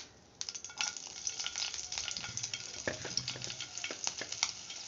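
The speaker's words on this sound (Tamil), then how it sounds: "சூடாகிட்டு பச்சை மிளகாய் போட்டுக்கலாம்." Green chillies frying in hot oil in a pan, a steady close sizzle with crackling pops and occasional stirring scrapes, no voices.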